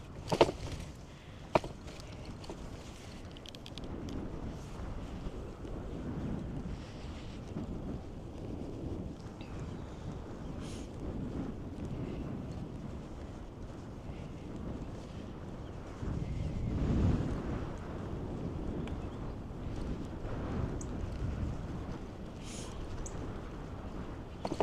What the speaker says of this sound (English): Ooh, headwind.